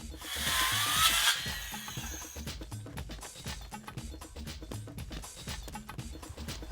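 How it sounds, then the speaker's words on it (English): A power saw cuts through plastic SurePave permeable pavers, a loud burst of grinding cutting noise at first that settles into a steadier, rougher rasping with rhythmic chatter. "SurePave pavers are easy to cut with a handsaw or a power saw."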